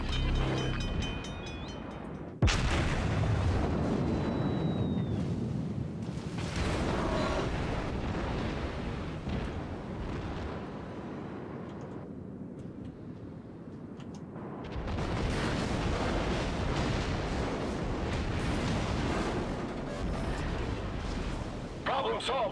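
Heavy, sustained roar of battleship main guns in World of Warships, a dense rumbling blast that fills most of the stretch, briefly dropping off midway before surging again, with a voice speaking over it.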